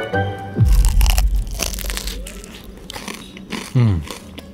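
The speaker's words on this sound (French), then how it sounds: "écoutez le croustillant" Two loud, crisp crunches of someone biting into toasted bruschetta bread in Rome, followed by quieter chewing, with brief breathy sounds between bites.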